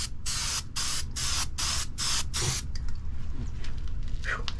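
Rust converter coating sprays onto the floor of a 1981 Dodge D150 truck in a series of short, loud hissing bursts with brief gaps between them, then stops, leaving quiet shop noise.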